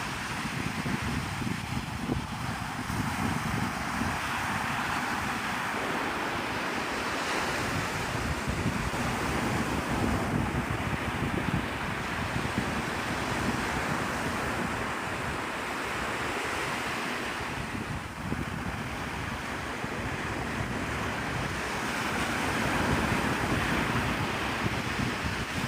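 Ocean surf and wind on Navarre Beach, Florida at sunrise, a continuous washing roar of waves with gusty wind buffeting the microphone throughout, no voices.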